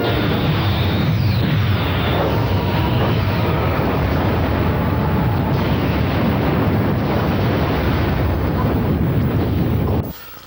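A loud, sustained rumbling roar of movie explosions and heavy artillery booms with windy noise, continuous for about ten seconds before cutting off abruptly.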